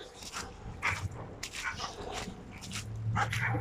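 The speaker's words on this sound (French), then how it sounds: "Il y a une guerre de chiens." Dogs fighting and barking in the snow outdoors in Turkey, giving scattered barks and yelps at mid distance, with a low rumble that builds near the end.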